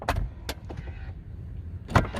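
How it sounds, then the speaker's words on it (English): Power windows on a Mercedes-Benz CL550 close automatically, a faint motor whir between a few soft thumps and clicks, ending with a firmer seal thud near the end, heard close inside the car. "If you roll the windows up, the windows automatically adjust and close up for you."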